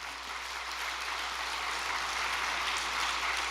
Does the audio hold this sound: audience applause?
yes